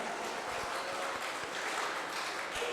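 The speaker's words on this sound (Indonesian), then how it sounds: "Tepuk tangan untuk kita sekalian" Applause from a church seminar audience after a bishop's talk on elders' ministry, a steady, moderately faint wash of clapping that holds evenly for a few seconds.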